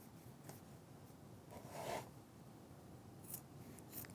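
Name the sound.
trimming paper sides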